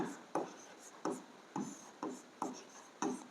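A pen scratches across paper in short repeated strokes, about seven bursts at a quick even pace, close and fairly quiet, while a maths solution is worked out on the page.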